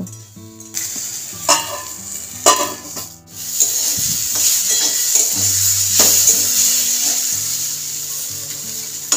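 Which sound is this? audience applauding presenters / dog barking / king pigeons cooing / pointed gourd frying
pointed gourd frying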